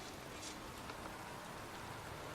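Pouring rain falls in a cemetery in the video game Heavy Rain, a faint, steady and even hiss that goes on without a break and carries no speech.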